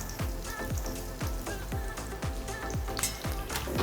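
Shallots sauté in a hot pan, a crackling sizzle overlaid by a repeated rhythmic tapping about twice a second, steady and close without speech.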